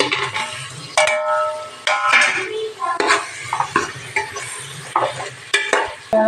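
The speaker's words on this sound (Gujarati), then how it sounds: "આપણે સોયા વળી નાખી દઉં" Soya chunks are stirred into a biryani pot, with a spoon clattering and scraping against metal in repeated close, loud strokes over a light sizzle of frying.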